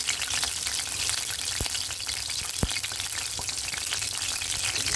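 Crushed green chili thecha dropped into hot oil, a bright continuous sizzle and crackle throughout with a couple of sharp pops, close and fairly loud.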